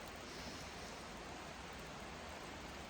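Steady broadband rush of a waterfall in a natural outdoor setting, a continuous even roar with no breaks, no voices.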